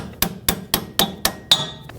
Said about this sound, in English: So we can now grab a hammer, tap this down.